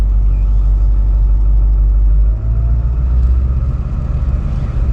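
A Ford 7.3L diesel truck engine idles steadily nearby, a loud low rumble with a slight dip in tone partway through, with no talking.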